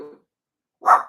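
A single dog bark rings out near the door, loud and sharp, following a brief low murmur at the start and a stretch of silence.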